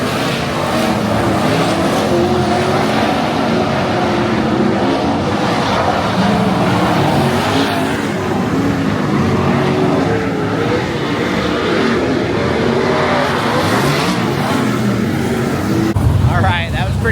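Sprint cars race in a heat at a championship event, a continuous loud engine roar from the pack on the track, with a commentator's voice heard over it.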